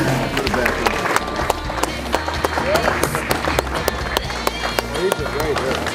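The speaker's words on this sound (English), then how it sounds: "I think Denny deserves some huge applause also" Audience applause at a card show in a high school setting, a continuous crowd clapping and cheering for an honoree, dense and fairly loud with other sounds mixed in throughout.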